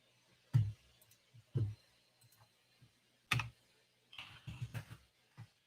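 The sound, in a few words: computer keyboard typing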